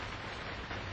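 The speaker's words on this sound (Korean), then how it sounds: "창밖에선 계속 빗소리가 들렸다." Steady rain falls outside a window, a dense, even hiss with no pauses, filling the whole short moment at a moderate, close level.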